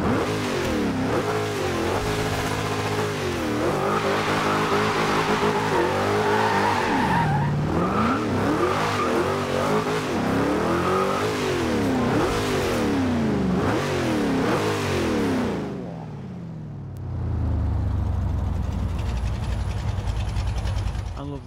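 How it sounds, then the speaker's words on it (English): An Oldsmobile Hurst 442 in the racing game Forza Horizon 2 revs repeatedly through rising and falling engine sweeps with tire squeal, then drops to a low idle near the end. "I love the noise when it idles,"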